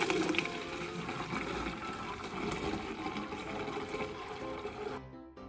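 Coconut milk from two brown coconuts is poured through a sieve into a bottle, making a steady, continuous liquid gush and trickle that runs close and fairly loud for about five seconds before stopping abruptly.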